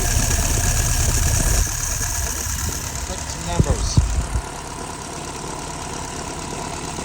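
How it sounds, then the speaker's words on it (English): Someone's YF 938SC engine idling steadily at about 700 RPM, a low continuous rumble with a few brief knocks and clatters midway, while a person talks over it. "Idling at about 700 RPM,"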